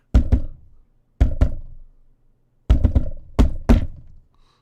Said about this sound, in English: Everyone hear that knock?